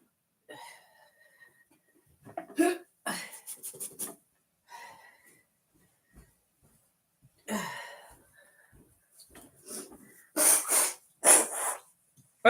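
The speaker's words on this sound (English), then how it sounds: "I gotta blow my nose" Someone blows their nose, with several short, breathy, snorting bursts in groups, close and fairly loud, separated by near silence.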